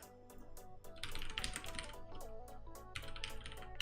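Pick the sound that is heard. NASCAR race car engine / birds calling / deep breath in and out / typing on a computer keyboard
typing on a computer keyboard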